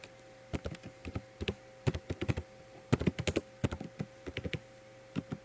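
Computer keyboard typing: a run of crisp, close key taps in uneven bursts over a faint steady electrical hum, no voices present.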